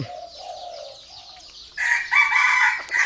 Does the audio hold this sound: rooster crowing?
yes